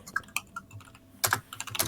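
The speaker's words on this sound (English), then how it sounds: "I'm typing." Quiet, uneven bursts of keystrokes on a computer keyboard, some isolated taps and a quicker cluster of clicks near the end, close-miked with no speech.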